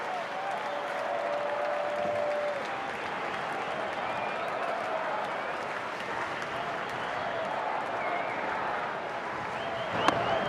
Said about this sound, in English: Oh, listen to the crowd here.